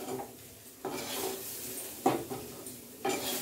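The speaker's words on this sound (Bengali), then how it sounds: "নারকেলটা আমি এখন নাড়ছো নাড়ছি" Grated coconut being stirred in a pan, heard as soft scraping of a utensil with a few sharper metallic knocks against the pan and a faint sizzle beneath, with no voices.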